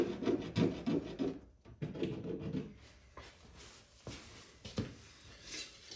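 A metal scraper rasps black paint off the wooden side of a Robotron arcade cabinet in close, uneven scraping strokes, loud at first and then lighter and patchier, with no talking.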